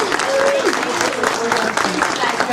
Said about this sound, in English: everybody give a great big round of applause for Diane Franklin